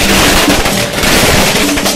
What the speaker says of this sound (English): Firecrackers going off everywhere.